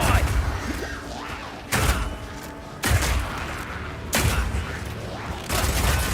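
Power Shot crossbow firing in Path of Exile 2, four heavy booming shots at roughly one-second intervals, each a loud broad blast with a mechanical clack, over dense combat noise.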